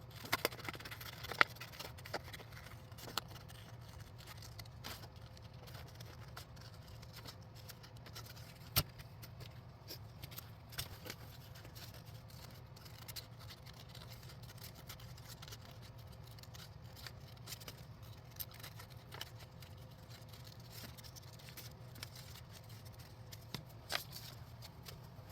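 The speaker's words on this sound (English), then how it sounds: "what I'm going to do is fussy cut this out" Sharp scissors make quiet, steady snipping and rustling as they fussy cut paper for a junk journal. The small clicks and paper crinkles repeat irregularly and stay close and faint over a low room hum.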